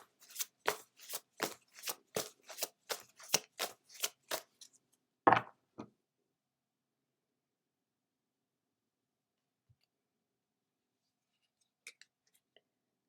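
Tarot cards riffled in a quick even run of about a dozen crisp flicks, then one card drawn with a couple of soft slaps, followed by near silence and faint handling.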